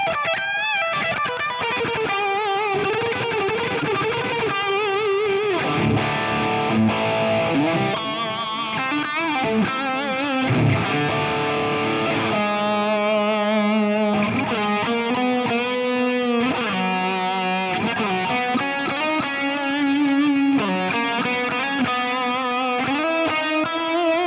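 Schecter BlackJack electric guitar played through a Valeton GP200LT processor with reverb, a distorted rock tone of sustained chords and melodic lines ringing steadily for the whole stretch, close and loud with no talking.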